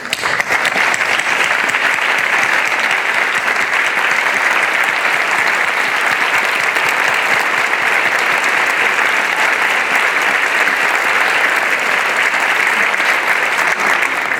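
Loud, sustained applause from a large convocation audience honoring students at Dominican, an even wash of many hands clapping without pause for the whole stretch.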